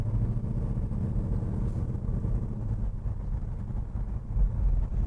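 A 1970 Chevrolet Chevelle restomod drives along with a steady, close engine drone and low exhaust rumble, with some wind noise and no talking.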